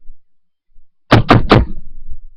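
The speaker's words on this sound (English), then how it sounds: "Twilight opens the door" Three firm knocks on a door in quick succession, followed by a short rattling clunk, clear and close in an otherwise quiet room.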